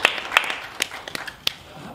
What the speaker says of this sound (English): Big applause for the beautiful ladies in this room